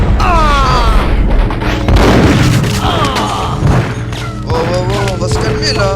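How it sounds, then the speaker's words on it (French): Gunfire in the Max Payne video game: repeated booming shots and thuds in a dense, loud burst with game music and effects, while a voice speaks over it. "il me tire dessus"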